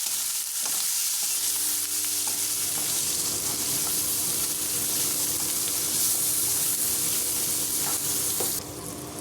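Tomatoes with a spoon of salt stirred and frying in a pan for meal maker curry, a steady close sizzle with scraping stir strokes running throughout.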